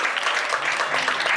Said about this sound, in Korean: 여러분의 박수 소리와 또 함성과 격려 소리로 그 시간을 좀 채워주셨으면 좋겠습니다